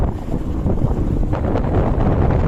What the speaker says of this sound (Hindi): वाह क्या हवा चली रहती है वहाँ पे